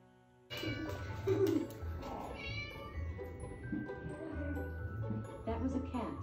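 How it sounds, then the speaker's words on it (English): A cat meows up close, a few drawn-out, wavering calls over faint background noise. "That was a cat."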